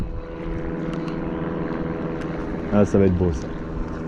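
A DJI Mavic drone flying over a seawall by the sea, its steady buzzing propeller drone continuous throughout, with someone briefly speaking near the end.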